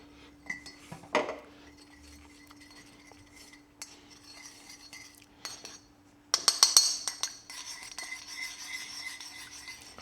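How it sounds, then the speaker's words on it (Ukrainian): A utensil stirs honey into a dressing for a southern Italian octopus dish, with a few scattered clinks, then a quick burst of metallic clatter against the bowl followed by steady, close stirring. "Я додам трохи меду. і перемішую."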